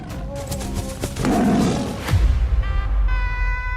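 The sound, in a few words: tiger roaring in an animation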